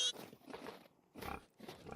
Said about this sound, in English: There's a lot of pigs in there.